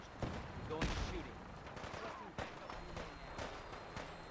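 Gunfire in Fallout 4: several sharp, fairly faint shots and a brief burst crack out at moderate distance over background game noise, with scattered impacts spread across a few seconds.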